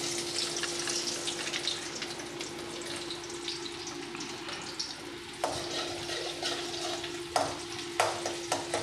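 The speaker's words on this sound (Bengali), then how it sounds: "শুকনো লঙ্কাটা একটু ভাজা ভাজা হয়ে আসলে, গন্ধ বেরোলে দিয়ে দেবো একটা ছোট পেঁয়াজ কুচি।" Dried red chillies frying in hot oil for a Bengali tok dal, a steady close sizzle running throughout with a few sharper crackles and pops near the end.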